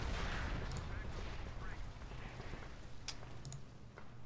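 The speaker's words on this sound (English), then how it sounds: "we have sector artillery that came in and killed it" A sector artillery strike lands in the strategy game Company of Heroes 2. Muffled blasts and crackling impacts roll over a constant, rumbling battlefield din, with a few sharper cracks near the end.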